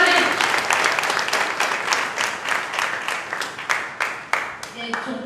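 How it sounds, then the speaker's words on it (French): An audience on a TV spelling-contest show applauds a child, loud, continuous clapping with sharp individual claps standing out and speech heard briefly underneath. "On l'applaudit très fort, on l'encourage."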